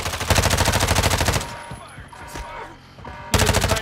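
Rapid automatic gunfire in the video game Call of Duty DMZ, loud close bursts of fast rhythmic shots, broken by a quieter stretch of scattered distant shots and rumble before a burst resumes.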